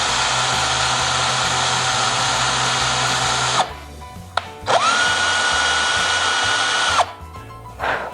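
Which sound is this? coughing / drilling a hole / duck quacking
drilling a hole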